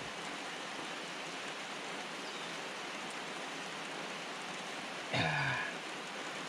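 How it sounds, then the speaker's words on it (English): Steady rain falls on a rough jungle road near the Caracol Mayan ruins in Belize, a soft, even hiss throughout, broken near the end by a brief louder tonal sound. "Yeah, it's raining."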